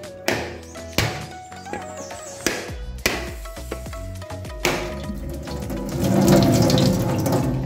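Water runs and splashes out while a Lucero stone is used at a breadfruit preparation, a continuous gushing stream punctuated by several sharp knocks and clatters, growing fuller toward the end.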